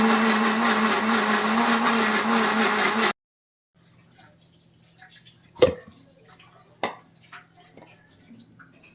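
A mixer grinder runs loud and steady for about three seconds grinding soaked black gram batter for jangri, then stops; afterwards only faint kitchen clatter and a couple of sharp knocks follow.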